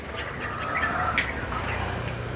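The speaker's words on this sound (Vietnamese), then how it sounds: "Chim đang về nha cả nhà." Caged birds in a small home bird-keeping corner give a few brief, high chirps and tweets around the middle, fairly faint over steady background noise.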